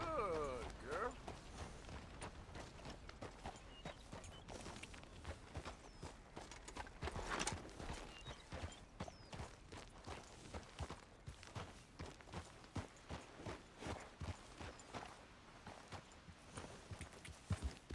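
A horse's hooves clip-clop in a steady walking rhythm throughout, fairly quiet and even, with a faint voice now and then.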